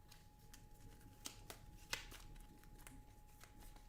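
Playing cards shuffled at a table during a Marvel Champions card game, a quiet run of soft riffling flicks and taps with a few sharper snaps, close and low in level, with no talk over it.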